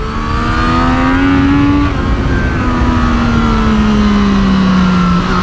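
A 2024 Triumph Street Triple 765 RS motorcycle accelerates hard, its loud, close engine rising in pitch through the gears in a continuous howl that drops briefly on a shift before climbing again.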